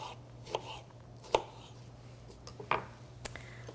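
A knife slicing a lemon on a cutting board, a few sparse, quiet thunks and taps against a low background hum.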